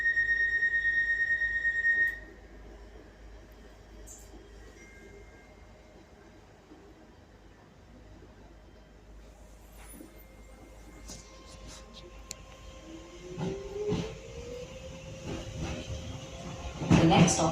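A Docklands Light Railway train runs along its track in London, a low rumble with a fading tone at the start, then rising rattles, squeals and clatter building toward the end, close and enveloping.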